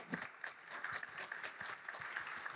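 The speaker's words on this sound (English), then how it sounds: "Let's give them a round of applause." An audience applauds, a dense patter of many hands clapping steadily and moderately loud throughout.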